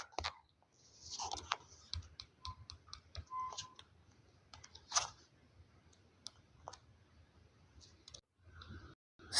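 A computer mouse clicks in scattered, quiet taps with irregular gaps between them, heard close and alone against near silence.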